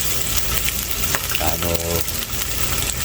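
Tocino and eggs frying in a pan give a constant crackling sizzle close by, with a brief voice speaking over it partway through.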